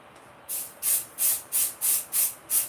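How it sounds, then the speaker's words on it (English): Pixie Spray, a craft adhesive spray, is pumped in seven short, even hissing bursts, roughly one every third of a second, close and fairly loud against a quiet room with no talking. "So this will just help stick it down a bit. It's called Pixie Spray."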